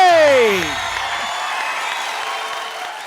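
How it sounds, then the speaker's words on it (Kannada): A studio audience on a Kannada comedy show bursts into applause and cheering, starting loud after a brief voice and settling into a sustained crowd wash. "ಜೋರಾಗಿ ಚಪ್ಪಾಳೆ"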